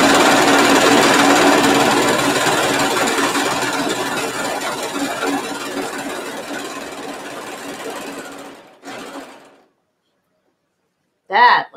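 A serger stitches a seam on pajama pants, its motor whirring in a loud, fast, steady run for about eight seconds before stopping. A brief rattle and a short burst of sound follow after a pause.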